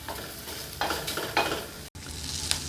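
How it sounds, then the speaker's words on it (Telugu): Tempering spices for a chutney sizzle in hot oil, a continuous crackling fry broken by several stirring scrapes, with a brief cut in the sound partway through. "పచ్చడి పోపు వేద్దాం"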